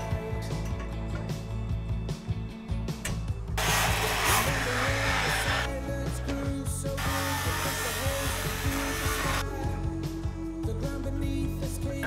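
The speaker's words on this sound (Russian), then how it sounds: "Прежде чем вести свежедобытый лут на сварочные работы, было решено его полностью зачистить" An 80 by 80 steel profile tube being cleaned with a power tool before welding, heard as a loud abrasive grinding whir in two long bursts, with a machine hum and clatter between them.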